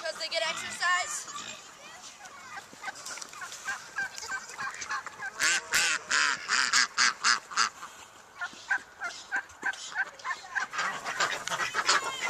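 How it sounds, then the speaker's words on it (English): Ducks on an eco farm quack and honk in a noisy, overlapping flock, the calls coming in rapid bursts that grow denser midway, with voices mixed in. "Happy ducks."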